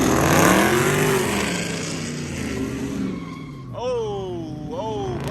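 A powerful Mopar car fishtails while accelerating hard at a car meet, its engine roaring loudly up close and tires squealing in rising chirps near the end, with excited voices talking over it.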